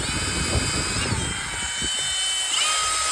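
A power drill pre-drills holes in a vinyl gate, giving a close, steady high whine that shifts pitch twice over a few seconds with no talking.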